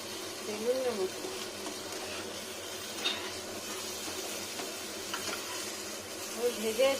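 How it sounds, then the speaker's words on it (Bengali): Eggplant slices, nearly done, fry on low heat in a pan with a quiet continuous sizzle and occasional light scraping, under a person's speech. "ভেজে এসছে, প্রায় ভাজা হয়ে গেল।"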